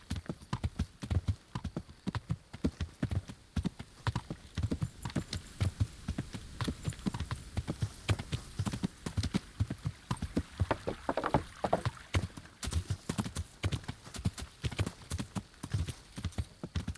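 Horse hooves clip-clop in a steady, continuous trot for the whole stretch, ridden through Kingdom Come: Deliverance, close and fairly loud with no voices over them.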